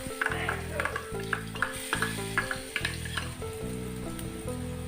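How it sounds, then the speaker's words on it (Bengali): Mashed paneer filling ground with peanuts, stirred and frying in a little oil in a kadai; steady loud sizzle with rhythmic scraping strokes of a spatula, no talking. "কড়াইতে 1/2 চা চামচ তেল দিয়ে পুরটা ছেড়ে দিচ্ছি।"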